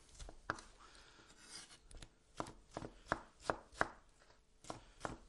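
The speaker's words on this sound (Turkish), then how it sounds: "Ve domatesleri de küçük küçük doğruyorum." A knife chops tomatoes quickly on a cutting board, tapping in an uneven rhythm. The sound is close but quiet, with no talking.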